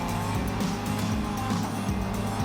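A race car engine in Gran Turismo 7 revs hard and continuously, its pitch climbing and dropping with repeated gear shifts, loud and steady with no talk over it.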